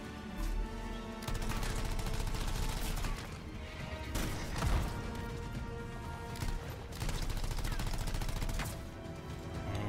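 Video game Anthem gunfire, with dense rapid shots and crashes running almost without a break over a rumbling backdrop. A voice is faintly present.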